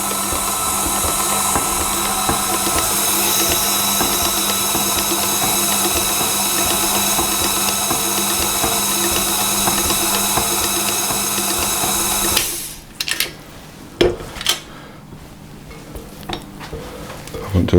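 An electric mixer works sultanas and raisins into panettone dough, its motor whirring loudly and steadily for about twelve seconds before switching off, followed by a few scattered clinks and knocks.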